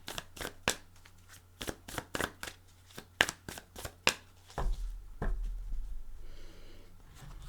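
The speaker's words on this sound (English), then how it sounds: "I always pre-shuffle my decks and then give them a shuffle or two with you here" Tarot cards being shuffled up close: a run of crisp riffling snaps in quick irregular bursts, then softer sliding and rustling as the deck settles.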